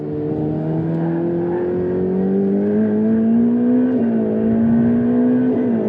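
A Ferrari Pista accelerates hard on a lap, its engine note climbing steadily in a loud, continuous rising drone with a brief dip near the end as the revs reset, no voices over it.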